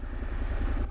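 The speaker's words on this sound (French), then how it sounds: "Je vais vous faire démarrer la moto devant vous" A 2015 Honda NC750X DCT motorcycle engine idles steadily in neutral after starting, a close, low and even rumble with a faint mechanical clatter and no break in the sound.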